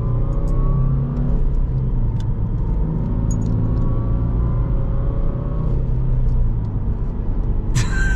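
A 2006 Subaru Legacy 2.0 LPG wagon drives in second gear at about 40 km/h, its engine giving a steady, close rumbling drone with road noise and a few faint rattles throughout.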